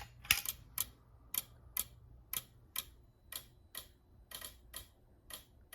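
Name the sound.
Gamewell fire alarm DSM sync module clicking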